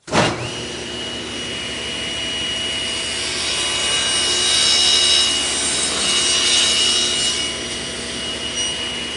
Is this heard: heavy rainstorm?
no